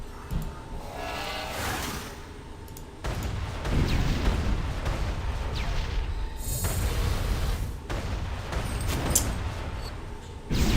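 Cannon firing in RuneScape 3, a 200% damage cannon, gives three loud booming shots about three seconds apart, each followed by a rumbling tail over steady game noise.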